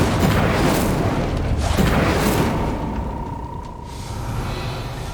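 The Incendio fire spell is cast in Hogwarts Legacy, a heavy booming whoosh with rumbling low-end that swells early and then fades into a softer roar.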